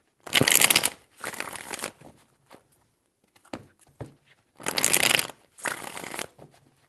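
Tarot cards are shuffled in several crisp, rapid riffling bursts, close and fairly loud, with quiet pauses and a few soft taps between the bursts.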